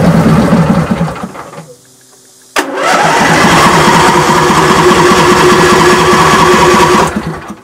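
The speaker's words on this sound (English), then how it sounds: "So we know the battery's fine because the engine's turning over normally." An Ariens hydrostatic automatic riding lawnmower engine cranks over steadily and loudly with a rapid chugging rhythm, pauses briefly, then cranks again for several seconds before stopping.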